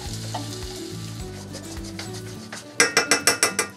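Crushed tomatoes going into a hot pan for rougail saucisse, a loud close sizzle and stirring, ending in a quick run of about six rhythmic scraping clicks.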